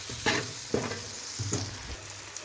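Onions sautéing in a pan for chicken curry, a steady close sizzle broken by a few scraping stirs of a spoon, with no voices.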